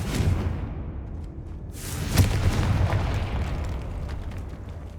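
A Confringo fire spell explodes in Hogwarts Legacy with a sudden loud boom and a whooshing burst, then a rumbling tail that fades slowly under steady ambient game noise.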